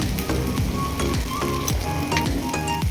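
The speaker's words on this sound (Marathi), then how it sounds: "हे कोथिंबीर मिरची आणि लसूण बारीक केलेलं आहे परतून घ्यायची आहे हळद पण टाकून घ्यायची आहे" Chopped coriander, green chili and garlic sautéing with turmeric for a gargata bhaji make a close, steady sizzle, with repeated scraping stir strokes running through the whole stretch.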